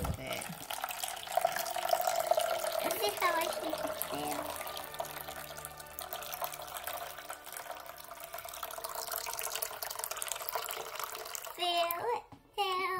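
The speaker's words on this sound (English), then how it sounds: "So first, we got our water. Let's open it. Pour it in." Water is poured steadily into a container while playing with an LOL Surprise shell doll toy, giving a continuous close splashing hiss under a child's and an adult's talk.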